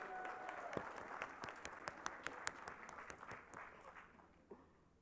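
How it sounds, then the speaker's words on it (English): An audience at an honor society induction applauds its graduating seniors, with scattered, individually distinct claps that taper off toward the end and are fairly faint overall. "Special round of applause for our seniors graduating within Chi Sigma Iota as well."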